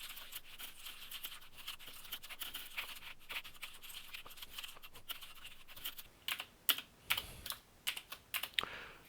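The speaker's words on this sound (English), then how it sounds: "So I'm just going to type it in" Typing on a Mac computer keyboard while entering a Java Hello World program, with a quiet run of soft key clicks that turns into louder, sharper irregular keystrokes toward the end.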